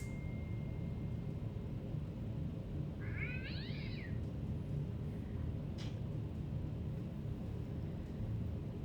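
A single cat's meow rises and falls once in the middle, faint and alone over a steady low rumble of background noise.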